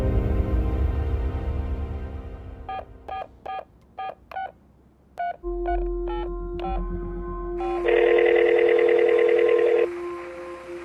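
A phone call begins with a rapid series of touch-tone dialing beeps, followed by a steady line tone and a looping ringback signal, clear and close with no voices.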